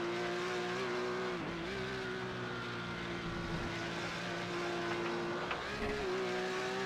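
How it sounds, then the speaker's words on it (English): On-board sound from a Porsche Carrera Cup race car at Lime Rock Park: a loud, steady engine note that holds high revs throughout, with brief dips and rises as the car crests a hill. "You just hear the revs go through the roof as they go up over the hill."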